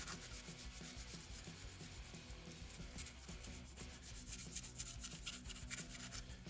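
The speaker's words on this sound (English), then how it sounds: "100 grit sandpaper and up. But all I'm doing is I'm just rubbing up in one direction here." Sandpaper of 100 grit or finer rubbing in one direction over a resin-coated 3D print, a continuous close scratchy scuffing with faint repeated strokes and no voices.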